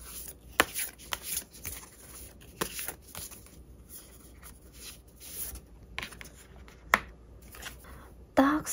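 Tarot cards being shuffled by hand make soft, papery riffles and taps at irregular intervals, close and fairly quiet, with a few louder snaps and a speaking voice underneath.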